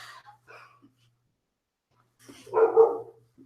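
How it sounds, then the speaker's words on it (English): A dog barks outside, a short burst of a couple of muffled, moderately loud barks following a stretch of quiet, with faint voices before it. "Dogs make noises. It's always really loud."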